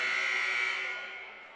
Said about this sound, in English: Buzzer sounds and action will resume here momentarily